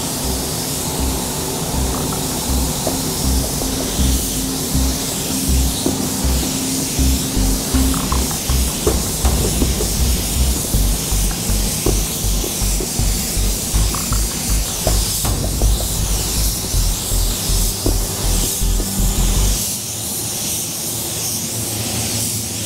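An automotive spray gun lays white pearl base coat onto a car fender, a loud continuous hiss broken into rhythmic pulsing bursts as the gun passes back and forth, with no talking.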